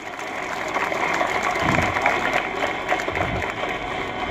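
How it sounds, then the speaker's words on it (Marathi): An audience claps steadily throughout a welcome ceremony where guests are greeted with bouquets, a dense even wash of applause from a crowd at moderate distance. "सर्वांनी टाळ्या वाजवायच्या आहेत या ठिकाणी."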